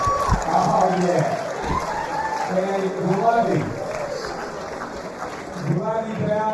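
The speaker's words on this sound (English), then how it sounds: "you can give a round of applause, please" Crowd at a fight event breaking into applause and cheers, a dense wash of clapping under an announcer's voice talking over it.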